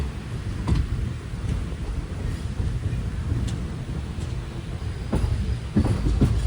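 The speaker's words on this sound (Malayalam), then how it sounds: "10:17 ട്രെയിൻ ഇപ്പോൾ വാണിയമ്പലം റെയിൽവേ സ്റ്റേഷനിലേക്ക് ഇതാ എത്തുകയാണ്" A passenger train on the Nilambur–Shoranur line pulls into Vaniyambalam railway station, giving a steady, close rumble with scattered metallic clacks and knocks throughout.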